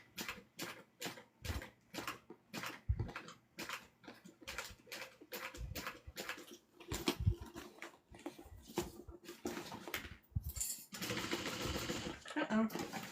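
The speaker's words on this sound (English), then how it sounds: "We're just sewing and rotating." A sewing machine stitching in short bursts while the fabric is turned, with brief stops between runs of stitches and a faster run near the end; a voice talks through it.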